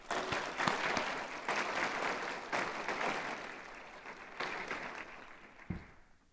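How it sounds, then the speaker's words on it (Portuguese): An audience at a formal legislative session celebrating a physical education school's 60th anniversary claps for the honorees, a full, steady burst of applause in a large room that tapers off near the end. "Uma salva de palmas para os homenageados."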